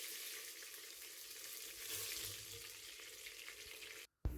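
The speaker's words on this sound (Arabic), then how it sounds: "باش نحط قرينة الفلفل متاعي يتقليو في الزيت" Green peppers frying in hot oil, a steady dense sizzle with soft crackling that holds for about four seconds and then cuts off abruptly.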